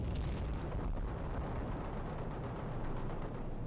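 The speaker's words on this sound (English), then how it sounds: "Zulu 9 are firing mortars" Mortar strike explosions in the strategy game World in Conflict make a dense, continuous rumbling roar with overlapping blasts, loud and sustained throughout with no let-up, and no voices.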